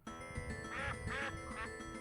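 A duck quacks in the Dink Smallwood video game, a run of three or four nasal quacks over a steady droning game background, fairly close and clear.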